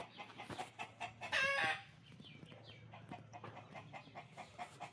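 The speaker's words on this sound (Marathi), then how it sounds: "हा कोंबडा बघा कॉक कॉक कॉक करतो" Rooster at a family agro-tourism farm, loud near crowing burst followed by scattered clucks and faint bird calls, no talking.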